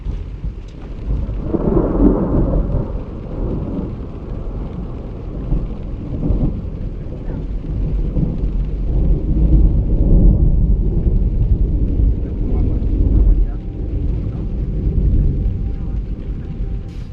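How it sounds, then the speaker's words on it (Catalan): Heavy thunder rolls through a storm with steady rain, a loud continuous rumble swelling and fading over several seconds during an off-road 4x4 trip in Africa; people talk over it. "Hi ha uns llamps."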